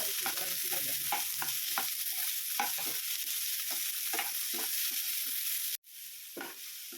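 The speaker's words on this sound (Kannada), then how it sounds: "ಒಂದು ಪ್ಯಾನ್ಗೆ 2 ಟೇಬಲ್ ಸ್ಪೂನ್ ಆಯಿಲ್ ಹಾಕಿ ಈರುಳ್ಳಿ ಬೆಳ್ಳುಳ್ಳಿ ಹಾಕಿ ಚೆನ್ನಾಗಿ ಫ್ರೈ ಮಾಡ್ಕೊಳ್ಳಿ." Onion and garlic fry in oil in a pan: a continuous close sizzle with repeated scraping stirs in an uneven rhythm, briefly dipping near the end.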